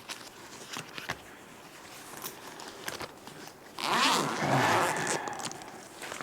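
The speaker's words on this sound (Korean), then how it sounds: "위쪽에 지퍼 부분에 열어볼게요" A zipper on a fabric camera bag is pulled open, a few short scratchy tugs followed by a longer, louder continuous zip near the end, close and clear with no talking.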